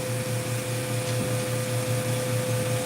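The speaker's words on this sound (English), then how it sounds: "now we'll plug in the vacuum. This is why I hate the vacuum." A shop vacuum runs with a constant, loud whining hum and steady low motor drone, unchanging throughout.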